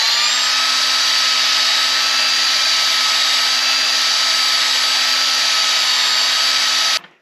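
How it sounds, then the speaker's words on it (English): A rotary tool fitted with 80 grit sandpaper sands the inside of a silver ring, a loud, steady high-pitched whine that holds constant for about seven seconds before stopping abruptly. "Now we're working with a little bit of 80 grit sandpaper."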